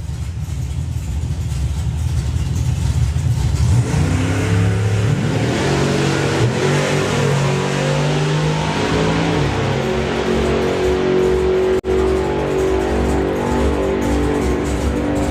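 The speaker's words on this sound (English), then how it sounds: "This is the last pair, and then it's just James Oliver to take a solo" Drag racing cars in the Pro ET round at the STP National Finals launch and accelerate down the strip, engines roaring loudly and climbing in pitch as they pull away over about fifteen seconds.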